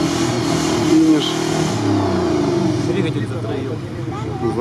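Rally car engine running roughly and misfiring at a cross-country race finish, an uneven mid-pitched rumble with faltering revs, close by, while people talk over it.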